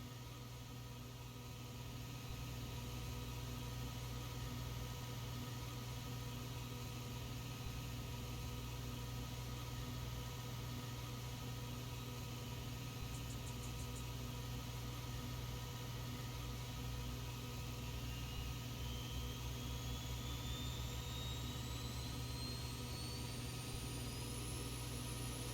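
A Boeing 737 auxiliary power unit runs in the X-Plane 12 flight simulator, on a Zibo 737 at Frankfurt airport, as a steady, even mechanical drone with a faint whine rising slowly toward the end.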